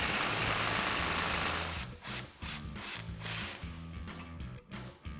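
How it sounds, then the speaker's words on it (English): A 21mm swivel socket wrench works a track bar bolt loose on a Jeep Gladiator JT, a close rasping turn followed by a series of rhythmic ratcheting clicks. "So we can take a 21mm swivel socket and a 13/16 or a 21mm wrench to remove this first bolt."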